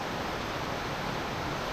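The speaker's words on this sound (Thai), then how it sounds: "อาจจะได้ยินเสียงน้ำตกนะครับ" Heavy flow of water from the Lat Wanon waterfall in a forest at night, a steady, dense rushing roar that fills the whole clip without pause or break.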